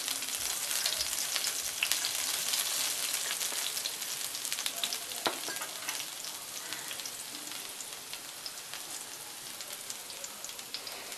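Crushed garlic and a pinch of asafoetida fry in hot oil, a steady, dense sizzle with fine crackling that runs the whole time and eases off slightly toward the end, with no voices.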